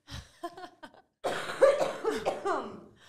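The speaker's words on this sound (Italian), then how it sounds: "Posso tossire?" A few soft clearing sounds lead into a burst of coughing, several rough coughs close to the microphone, tapering off at the end.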